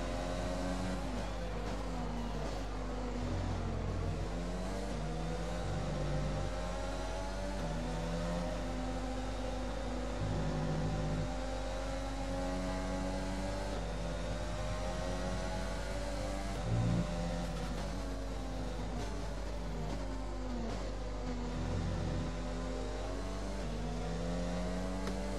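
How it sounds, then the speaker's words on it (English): A car in a racing video game driving under AI control on a Spanish circuit, its engine note rising and falling steadily with gear changes, moderately loud and continuous with no talking. "My car is driving by itself."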